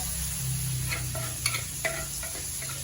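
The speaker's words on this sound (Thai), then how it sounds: "เดี๋ยวให้น้ำมันร้อนแป๊บหนึ่งก่อนค่ะใส่หมูแล้วนะคะ ใส่หมูใส่หมูใส่พริก" Pork and chili frying in hot oil, a soft steady sizzle with a few light scrapes and stirring clicks from a utensil, quiet and close, no voices.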